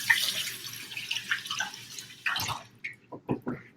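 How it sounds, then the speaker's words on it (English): Hands washed under a running kitchen tap, close splashing water that tapers into a few drips and short knocks near the end. "I'm gonna wash my hands and pop those in the oven"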